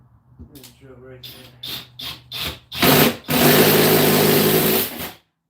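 A power drill drilling into wood beside a joist whirs in short bursts, then runs loud and steady for a couple of seconds before stopping, close to the listener.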